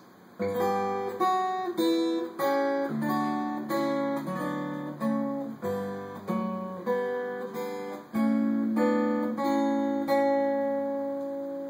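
Plucked acoustic guitar picks out a slow, flowing melody of Pachelbel's Canon over low bass notes, each chord ringing and decaying, played close and alone.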